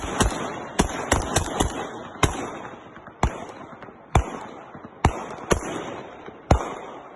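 A burst of loud, sharp gunshots, about a dozen irregularly spaced cracks over several seconds, echoing outdoors with no voices.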